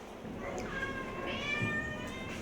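Cats meow in an animal shelter building, several drawn-out, wavering cries overlapping over a low background hum, moderately close and fairly quiet.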